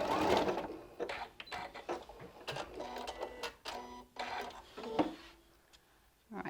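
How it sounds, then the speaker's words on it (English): Sewing machine stitching quilt pieces for a LeMoyne star, then back tacking: short bursts of rapid mechanical needle chatter separated by brief pauses and clicks, close and prominent, with occasional talk between. "One more stitch, and now I'm going to back tack."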